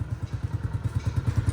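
A 2025 Honda CG125 motorcycle passes close by, its single-cylinder engine putting out a rapid, even low thumping pulse that stays loud throughout without any talk.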